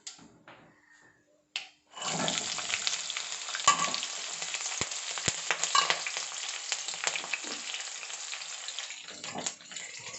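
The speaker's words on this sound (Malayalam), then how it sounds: "എൻ്റെ കയ്യായിട്ട് വന്നു പോകുന്നത് എണ്ണ തെറിച്ച്." Fish masala with mustard seeds, ginger, garlic and green chilli frying in hot oil, giving a loud, steady close sizzle with sharp spattering crackles throughout after a brief quiet start. No one speaks.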